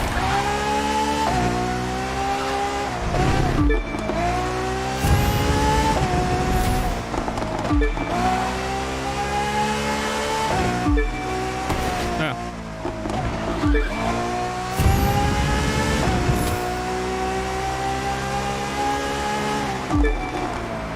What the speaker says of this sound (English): Hell yeah, drifting.